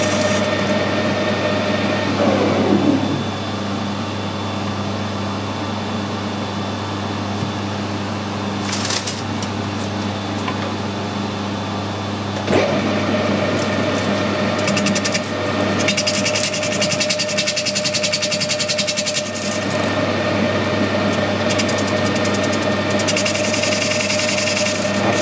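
A lathe turns SNNC 200 steel into piston rings, a loud steady mechanical drone and hum running throughout, with a brief bright scraping burst partway through and a shift in tone midway as cutting continues.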